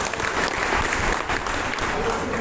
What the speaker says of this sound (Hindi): एक जोरदार ताली आप अपने लिए बनाएंगे।